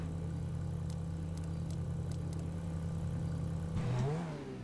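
Car engine in GTA V Online idling with a steady low hum, then revving up briefly near the end with a rising and falling whine, fairly quiet with no talking.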